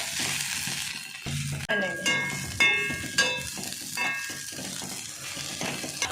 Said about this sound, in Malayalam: ഇങ്ങനെ നന്നായി ഇളക്കുക